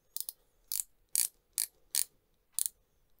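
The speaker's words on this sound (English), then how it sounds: "This bezel is a 120 click." Steeldive SD1970 dive watch, a Seiko 6105 homage, with its 120-click bezel being turned: six crisp, bright ratcheting clicks at uneven intervals, close and distinct against near silence.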